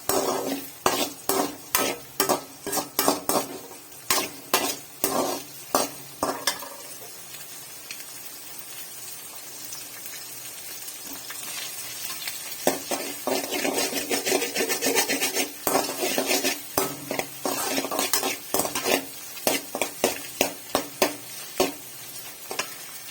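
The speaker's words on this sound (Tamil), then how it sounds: "கொஞ்சம் மிளகுத்தூள் சேர்த்துக்கலாம் கொஞ்சம் உப்பு சேர்த்துக்கலாம் நல்லா கிண்டி விட்டுக்கலாம்" Homemade noodles seasoned with pepper and salt are stirred in a pan with a utensil, making rapid rhythmic scraping strokes that pause briefly midway, then resume in close, fairly loud bursts.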